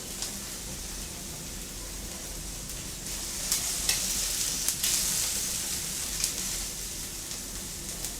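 Sheep meat sizzles steadily in hot oil perfumed with rosemary sprigs, a constant close frying hiss with a few brief crackles and pops rising midway.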